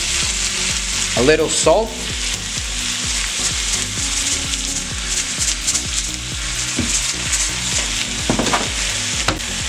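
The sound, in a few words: tomatoes sizzling in frying pan for salsa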